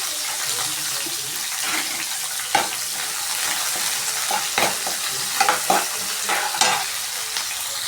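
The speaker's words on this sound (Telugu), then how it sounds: "ఇప్పుడు కచ్చపచ్చగా దంచుకున్న ఎల్లిపాయ, ఇవన్నీ ఫ్రై అయ్యాయి కదా." Coarsely crushed garlic fries with coriander in hot oil while being stirred, a loud, dense, continuous sizzle close by, broken by several sharp spatula scrapes and knocks against the pan.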